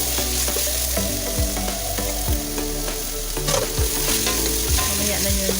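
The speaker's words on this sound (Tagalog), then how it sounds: "igisa din natin." Red and long green chili peppers sautéed in a pan for ginataang langka, with steady close frying sizzle and repeated stirring scrapes and knocks of a utensil against the pan.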